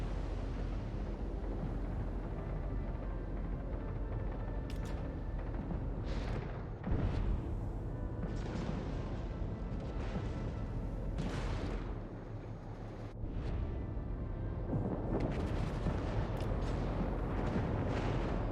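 Naval guns firing at an enemy ship in a warship video game, a dense rumble of booming salvos and distant blasts rolling on for several seconds, with no one talking.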